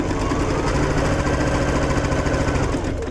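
Sewing machine running steadily while stitching quilt pieces for a block, a continuous close mechanical hum with a fast, even needle rhythm throughout and no talk.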